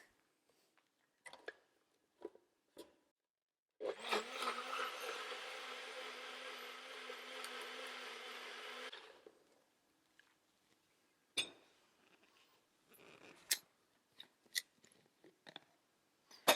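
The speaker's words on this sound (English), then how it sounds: "We're just going to put the lid on, we're going to whiz it up" A blender whizzes a healthy no-added-sugar dessert mix with the lid on, a steady dense whir running about five seconds on its own between scattered small clicks and knocks.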